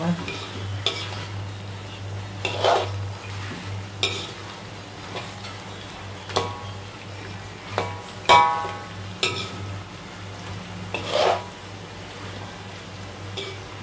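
A spoon scrapes and stirs sambal through fried mackerel in a sizzling pan in repeated bursts over a steady low hiss, each stroke loud and close.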